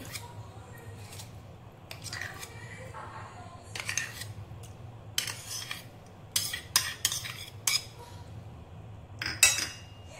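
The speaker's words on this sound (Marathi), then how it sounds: "आपल्याला पनीर आणखी दही मिक्स करून घ्यायचं आहे।" Spoon working paneer and thick curd together in a bowl, producing soft intermittent clinks and squishy scraping in irregular bursts, close and fairly quiet, with no talking.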